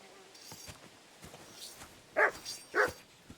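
A dog in the medieval video game Kingdom Come Deliverance II gives two short, fairly loud barks about half a second apart over a steady buzzing ambience.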